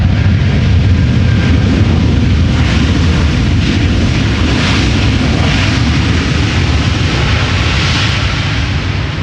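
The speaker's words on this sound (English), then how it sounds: "Good reverser audio" A KLM Boeing 747 landing at Amsterdam Schiphol, its thrust reversers producing a loud, continuous broadband roar that stays heavy and unbroken throughout, heard from a distance outdoors.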